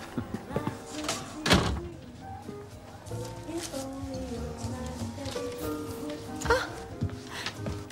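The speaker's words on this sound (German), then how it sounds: "Willst du die Tür nicht zumachen?" A door thumps shut with one loud slam near the start, followed by a quieter knock later, while people talk in the background throughout.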